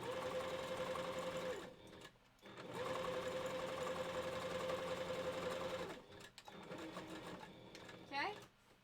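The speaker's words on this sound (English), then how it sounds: "a heavy-duty one would really help to get that thick fur through the machine" A sewing machine stitches through thick faux fur for a wolf head, a steady close whirring hum of motor and needle that runs in long stretches with brief pauses between them.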